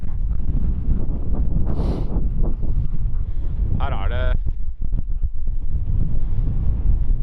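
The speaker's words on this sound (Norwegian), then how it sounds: "jeg merker at vinden kommer egentlig ganske rett inn akkurat her" Wind buffets a microphone on snowy winter terrain, roaring steadily throughout, with a person briefly speaking and a short high tonal squeak midway.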